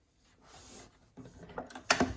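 A sewing machine stitches down the raw edges of a V-neck bound edge: a soft mechanical whir builds, then short louder clattering bursts near the end, close by.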